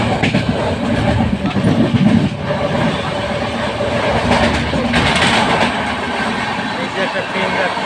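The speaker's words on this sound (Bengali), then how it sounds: "একটা ট্রেন যাচ্ছে," A petrol tanker train rolls past in sunny weather in Andhra Pradesh, loud and close, its wagons rumbling and clattering steadily while a person talks over the noise.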